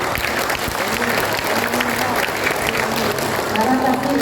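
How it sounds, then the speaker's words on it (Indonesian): Audience clapping at an Indonesian community police gathering, a sustained dense wash of hands that holds steady for the whole stretch, with a faint voice or two mixed in underneath. "Coba tepuk tangan dulu."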